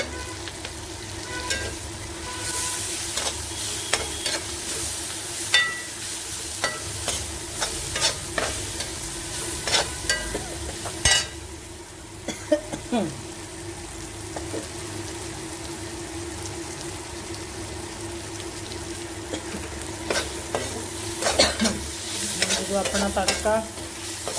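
Gram flour bhurji tempering sizzles steadily in a pan on a gas stove for the whole stretch, with frequent scraping stirs and crackling pops and no voices.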